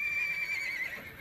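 A rescued horse on a home property gives a single sustained whinny, close and fairly loud, its tone wavering before trailing off, with no talking over it.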